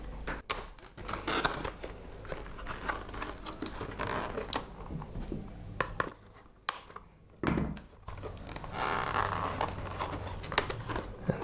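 Protective packaging around a Mini-Z MA-020 remote-control car being cut open, with close crinkly scraping and snipping bursts, a few sharp pauses, and no talking.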